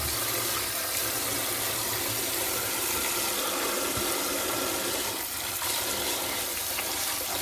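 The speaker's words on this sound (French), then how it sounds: "On fait le Karcher." A Kärcher pressure washer blasting water over lead pellets, making a loud, constant hissing spray that stays steady and close throughout.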